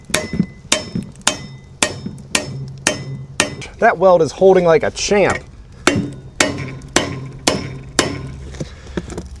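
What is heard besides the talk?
hammering on a steering joint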